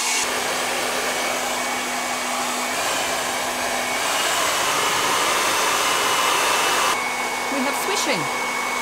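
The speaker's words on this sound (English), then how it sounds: "Need to put the hair dryer down." A hair dryer used with a GHD ceramic radial brush blows continuously up close, a loud steady whoosh with a motor whine that shifts slightly in pitch as it moves.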